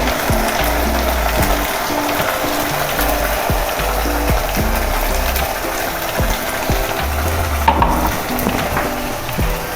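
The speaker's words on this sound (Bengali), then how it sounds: "এবার মশলাটা দিয়ে দেবো" Spices frying with onion in a pan for a potato curry, continuous close sizzling broken by frequent scraping strokes and clacks of a spoon stirring against the pan.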